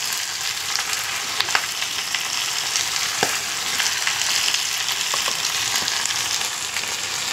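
Spices are fried in a hot pan, a loud continuous sizzle broken by occasional sharp scrapes of a spoon stirring the mixture, with no one speaking.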